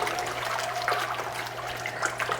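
An Aeromixer nutrient mixer ramped up in a 55-gallon reservoir churns the water with a steady turbulent swirling and bubbling over a low motor hum, close and continuous.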